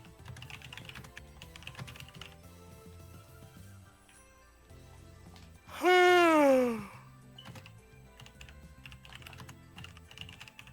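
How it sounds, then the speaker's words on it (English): Soft clicking of a computer keyboard in quick bursts, broken midway by a loud, rising drawn-out vocal moan before the light typing resumes. "Sorry, I keep typing."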